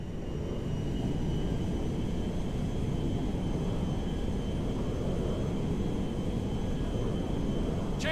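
Steady, heavy roar of a cargo jet's engines in the video game GTA 5, a continuous low droning rumble that holds at constant loudness throughout.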